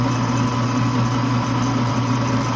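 A tool and cutter grinder makes a pass over a workpiece, giving a steady, close machine hum with a continuous whir throughout and no pauses or talk.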